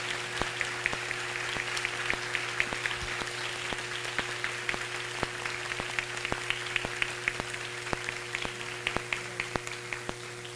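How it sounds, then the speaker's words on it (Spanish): An audience applauds at a public forum on urban rights, a steady patter of many hands clapping continuously with sharp individual claps standing out, no voices over it. "Uma salva de palmas para ela."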